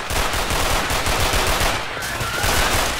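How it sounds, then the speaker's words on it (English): M16 assault rifle fire in a video game, rapid sustained bursts of close, loud shots in a fast rhythm with a brief pause near the middle, no talking. "It's just an assault rifle. That's the M16."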